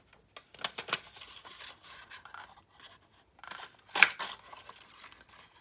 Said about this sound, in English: let's cut another couple of them if I can.